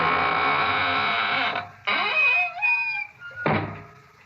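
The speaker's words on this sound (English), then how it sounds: "now it's time to close the squeaking door" A squeaking door swings shut as a radio drama sound effect, its long drawn-out creak rising and falling in pitch over several seconds, loud and close, with no voices.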